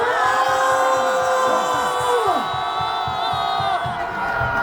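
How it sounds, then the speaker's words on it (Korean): A large crowd of people at a political rally roars a sustained battle cry, a dense and loud wall of shouting voices lasting several seconds before tapering slightly. "승리를 원한다면 전방을 향해 함성"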